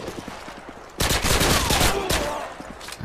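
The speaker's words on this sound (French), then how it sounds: "Vin, faut que t'arrêtes de passer devant mes balles." Rapid bursts of automatic gunfire in a Call of Duty Promod match, loud and sustained through the middle of the clip, with quieter shots before and after.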